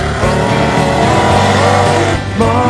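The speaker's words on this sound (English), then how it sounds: "Monster trucks are loud." Loud, continuous roar of monster truck engines revving and straining at a show, close and sustained with shifting pitch.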